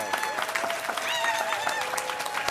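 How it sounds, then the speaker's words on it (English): Audience gives a big round of applause, dense sustained clapping from a crowd at an event, with a voice and whoops ringing out over it. "Can we give them a huge round of applause?"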